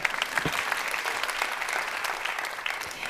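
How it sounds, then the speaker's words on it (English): TED talk audience giving dense, sustained applause, many hands clapping evenly throughout with no voices on top. "Really, I clap for you."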